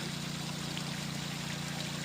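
Water pours steadily into an IBC tank on a farm as it fills, a continuous close rushing trickle with a low hum beneath, no voices.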